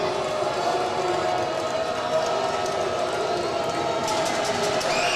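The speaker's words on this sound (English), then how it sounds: "Crowd coming alive again." A basketball crowd at a Highland versus Triton community college game gives a broad, steady murmur and cheer after a free throw, filling the gym at an even level throughout.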